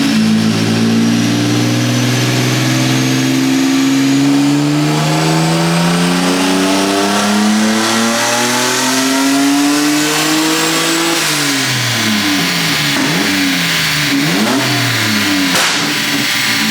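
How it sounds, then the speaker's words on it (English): A turbocharged Nissan 350Z with hood-exit exhaust climbs steadily under load on a dyno, a loud, continuous engine rising in pitch before easing off near the end and blipping again, alone without voices. "we made that last dyno pull"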